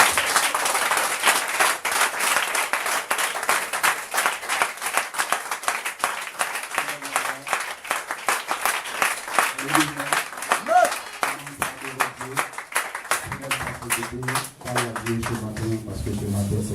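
Church congregation at a Sunday worship service clapping and cheering continuously, dense and loud throughout, with a preacher's voice and some singing or shouts rising over the applause.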